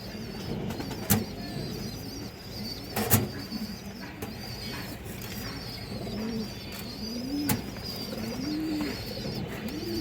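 Old-line pigeons coo repeatedly in soft, rolling calls over a steady outdoor hum, with a few sharp knocks and faint chirps in the background.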